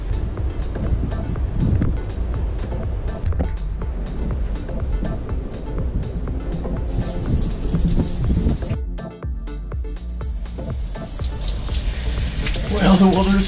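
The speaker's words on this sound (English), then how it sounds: "So this is a shower actually." Cold shower water running and spraying, a steady hiss of falling water with some splashing and clatter, continuing throughout with no clear speech.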